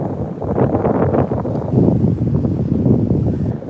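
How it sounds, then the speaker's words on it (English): Strong outdoor wind buffeting a microphone, loud continuous rumbling gusts that rise and fall throughout, no voices heard. "It's very windy out here."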